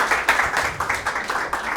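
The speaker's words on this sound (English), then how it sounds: "Please give a round of applause for Janna" An audience applauds a speaker at a talk on designing autonomous vehicle experiences, a steady wash of clapping from many hands, fairly close and filling the space, with no voices over it.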